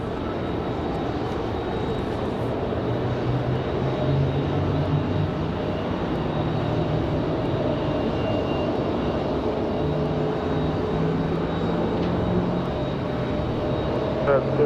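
An airplane's jet engines roar at Raleigh-Durham International Airport, a loud, steady, unbroken rumble that holds for the whole stretch without fading.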